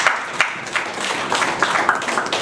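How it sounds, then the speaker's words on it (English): Audience at a real estate and urban migration panel discussion gives a round of applause, a steady wash of many hands clapping with a few sharper individual claps standing out, moderately loud. "can you give me a round of applause, please?"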